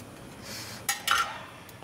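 A spatula slides under butter naan on a hot tawa and lifts it: a soft scrape followed by two quick metallic clinks, close and fairly quiet, with no talking.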